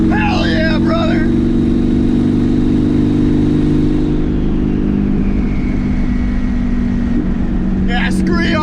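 A street-tuned twin turbo Subaru STi engine runs hard under boost at up to 50 psi and 10,000 rpm, giving a loud, steady droning roar with a faint rising whine, while voices shout at the start and near the end.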